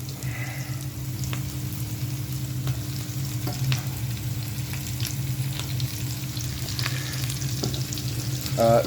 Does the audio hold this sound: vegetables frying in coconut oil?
yes